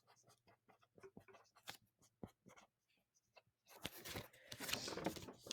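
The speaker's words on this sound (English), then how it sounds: "and then I'm going to write Lakota tribe" Pen or marker scratching out handwritten words in short strokes with pauses between, building to a denser, louder run of writing near the end; close and alone, with no talk.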